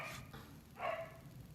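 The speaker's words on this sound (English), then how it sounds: "That's my dog." A dog indoors gives one short bark partway through, moderately close, against a steady low background hum; no talking.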